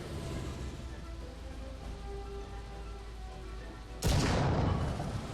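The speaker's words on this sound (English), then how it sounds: "I could fire this gun all day." A single heavy tank gun on the British Black Prince tank fires in War Thunder, one loud booming thud that stands out sharply over a steady engine rumble, then decays.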